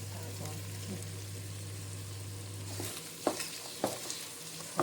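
Food frying in a pan is stirred, a low continuous sizzle with a steady hum at first, then several sharp scraping knocks of a spoon against the pan toward the end.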